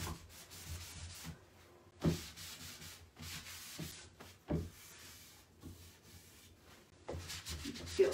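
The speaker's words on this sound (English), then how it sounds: "So I'm just gonna keep rubbing until I feel like the wax is nice and absorbed." Finishing wax being rubbed by hand onto a dull, chalky surface, heard as soft, continuous scrubbing strokes with occasional louder swipes, close and fairly quiet, with no talking.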